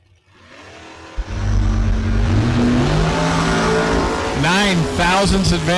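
A drag race launch between a Dodge Demon and a dragster roars up loudly from near silence, rising in pitch as engines accelerate hard, with a rapid sweeping engine tone at the end and an announcer talking over it.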